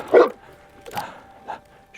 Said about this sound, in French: Voilà l'aboiement